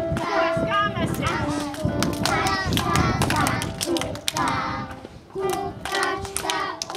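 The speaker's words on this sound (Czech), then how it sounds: "Tleskáme si." Preschool children clap their hands together in a kindergarten farewell celebration, a steady run of sharp claps over several seconds mixed with children's voices and singing.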